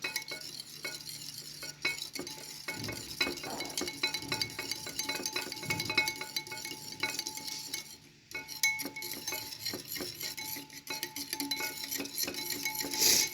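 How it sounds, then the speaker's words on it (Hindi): Whisking an egg into French toast batter in a bowl, with steady clinking and scraping of a utensil against the dish, close and continuous with no talking. "अंडा डाल के इसको करूँगी मिक्स"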